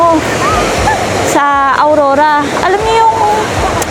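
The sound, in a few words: ocean waves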